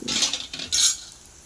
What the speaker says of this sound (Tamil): வெங்காயம் நல்லா பொன்னிறமாக ஆனதுக்கப்புறமா நம்ம வெங்காயம் நல்லாவே நம்ம வதக்கிக்கணும்